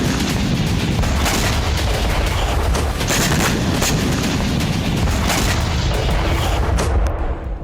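Dense, continuous gunfire and artillery blasts from war combat between Russia and Ukraine, loud and sustained throughout with overlapping bursts and booms, fading slightly at the end.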